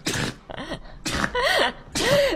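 A dog sneezes repeatedly, three sharp bursts in quick succession with snorting breaths between them, close and fairly loud.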